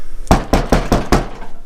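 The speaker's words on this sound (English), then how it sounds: "So we're going to knock right here" Knocking on a door: five firm, evenly spaced raps, loud and close, with nothing else heard between them.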